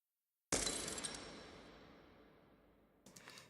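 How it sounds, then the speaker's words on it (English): Glass percussion hit in a music production, a sharp shattering clink with lows filtered out and a long reverb tail fading away, followed by a second quieter glassy burst. "Then we have this glass percussion sound, just filtering out some lows and some reverb,"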